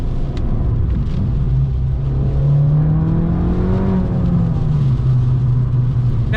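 An Abarth 695 70th Anniversario with its Monza exhaust valve open revs up, its engine note climbing to a peak and falling back, a loud, rasping drone under steady road and wind rumble.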